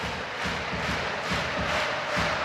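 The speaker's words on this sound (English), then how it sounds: "the Northern Ireland fans around us, all the way around the ground, are standing up and applauding" Northern Ireland football fans standing all around the ground applauding after a goal, a dense, steady roar of clapping and crowd noise filling the stadium with gentle swells.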